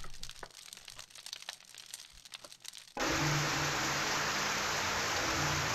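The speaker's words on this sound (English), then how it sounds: "seriously, why is the rain so loud?" In a video game, quiet rustling gives way abruptly to a loud, dense roar of heavy storm rain that continues steadily to the end.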